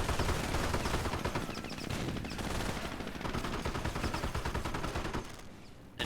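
Continuous rattling machine gun fire and battle din in Company of Heroes, with dense overlapping bursts that stay loud throughout and ease slightly near the end.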